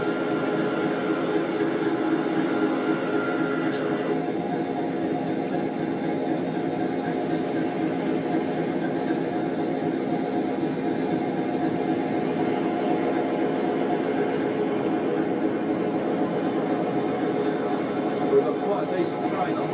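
Steady rumbling drone of a train at Hoo Junction, heard from on board or close by, continuous and even with faint hums, as a voice talks over it.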